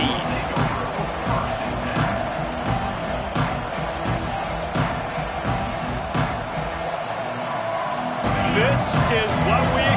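Football stadium crowd at a college game between Clemson and Notre Dame, a dense constant roar with scattered shouts and claps, steady and loud throughout, with commentary voices speaking over it.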